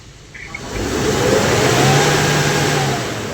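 A Kia Bongo III with a D4CB Euro 5 diesel engine suffering a restricted, ash-clogged particulate filter revs up from idle, swelling into a loud, sustained mid-pitched roar that holds for a couple of seconds before easing back down.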